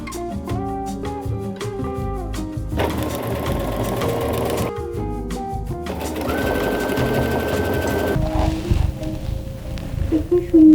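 A sewing machine runs steadily, stitching a zigzag around a fabric circle. Its rapid mechanical whir starts, stops and restarts close by, with music playing underneath throughout.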